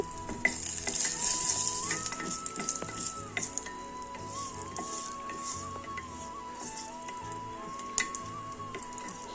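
Vegetables sizzle and fry in ghee in a hot pan while a utensil stirs and scrapes against it, a steady crackle with occasional clinks.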